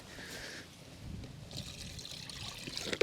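Water trickles and pours at a fishing and barbecue outing on the Dnieper delta, a soft, uneven splashing stream close by that rises toward the end with a small clink.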